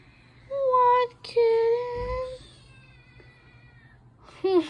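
A scared kitten gives several loud, angry meows, two long harsh cries early and a short one at the end, with a thump in between and a person murmuring nearby.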